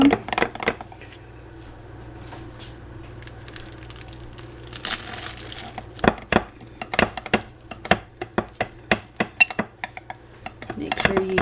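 A pie server cuts through the crispy crust of a fried chicken pie cooked in a stovetop skillet, giving a run of sharp crunches and scraping clicks against the pan, close up and growing quicker toward the end.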